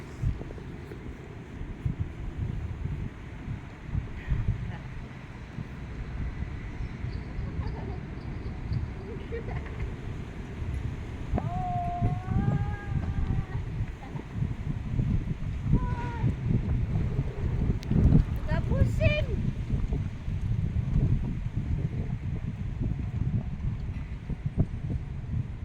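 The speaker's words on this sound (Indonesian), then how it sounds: "Ini beberapa hari di Holland agak angin" Strong wind in Delft, Netherlands, near the central station buffets the microphone with constant low rumbling gusts throughout, while someone talks now and then and faint outdoor sounds come through.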